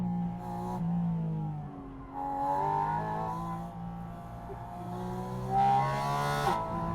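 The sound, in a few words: Porsche roadster engine at full throttle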